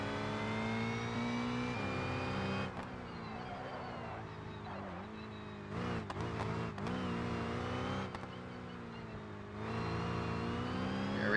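A race car engine in the video game BeamNG drones and revs continuously, pitch rising and dipping with gear shifts, loud and steady throughout.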